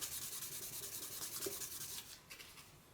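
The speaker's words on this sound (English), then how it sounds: "So I'm just using a little piece of 1200 grit sandpaper and just smoothing that off" Fine 1200 grit sandpaper rubbed by hand over a car door handle, a steady close scratchy swishing of short rapid strokes that eases off near the end, with no talking.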